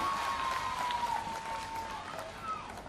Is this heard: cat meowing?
no